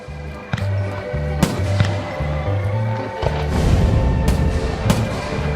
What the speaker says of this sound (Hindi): अब आतिशबाजी हर जगह है।